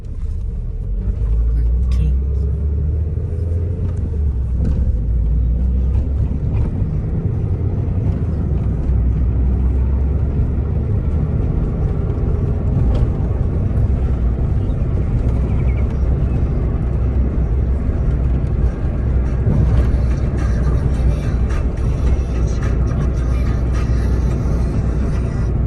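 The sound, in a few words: Honda EF hatchback driving with noisy speedometer cable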